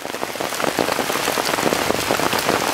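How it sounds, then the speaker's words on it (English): Heavy rain drums steadily on a poncho basha shelter in the outdoors, a dense, close, continuous patter of drops with no talking. "hanging out in the rain under our poncho basha shelter here"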